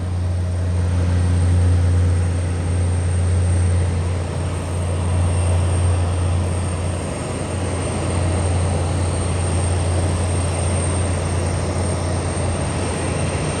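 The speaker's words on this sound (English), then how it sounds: "Got an aircraft coming to land." Ryanair Boeing 737-8 MAX coming in to land at Madeira airport, a loud sustained jet engine roar with a steady low drone, heard alone throughout.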